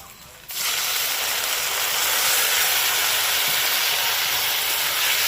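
Tomato dropped into a pan of frying chopped onions, a sudden loud sizzle bursting in after a quiet start and then hissing steadily and close.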